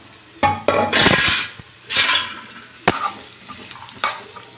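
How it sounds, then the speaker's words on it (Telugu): Mango and ginger pieces frying in oil in a pan, with repeated clattering bursts of a spoon stirring and scraping against the metal over a soft sizzle. "నాలుగు స్పూన్ల ఆయిల్ వేసుకొని అది వేడెక్కిన తర్వాత పండిలో ఈ మామిడి ముక్కల్ని వేయించుకుందాం"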